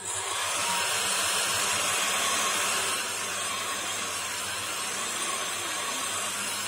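A handheld hair dryer blowing steadily to dry a dampened decoupage craft piece, a loud continuous whooshing hum that eases slightly midway, with no one speaking over it.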